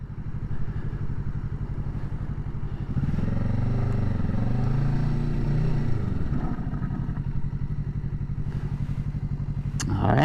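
A 2023 Kawasaki Ninja 650 revs hard and accelerates, its engine note rising steadily and loud, then braking into a quick stop on a red stop zone before the engine climbs again.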